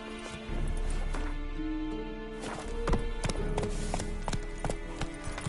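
Horse hooves trot in a steady, repeated clip-clop rhythm through The Witcher 3, close and fairly loud over a faint backdrop of game ambience.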